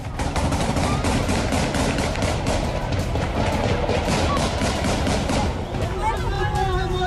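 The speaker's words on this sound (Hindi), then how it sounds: "काबुल में पाकिस्तानी दूतावास पर प्रदर्शन कर रही महिलाओं पर हवाई फायरिंग करवाई गई" Aerial gunfire aimed at protesting women in Kabul crackles in rapid, continuous bursts under a loud, dense roar of crowd noise, with voices and shouting near the end.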